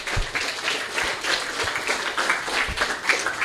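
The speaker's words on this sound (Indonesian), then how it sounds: "tepuk tangan Ya. untuk beliau ya." Applause from an audience at a gathering for Kementerian Agama Kabupaten Banyuwangi, greeting an official in charge of madrasahs, sounds as steady mid-level clapping with a few sharper low thumps scattered through it.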